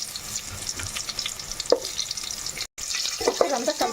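Onion pieces frying in oil with curry leaves and asafoetida for sambar rice, a steady sizzle with scraping stirs, a brief cut, then a busier crackle; no talk.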